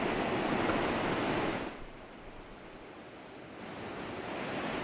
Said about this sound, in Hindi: गंडक बैराज के सभी जो द्वार थे वो खोल दिए गए हैं, जिसके बाद तेजी के साथ पानी आगे बढ़ रहा है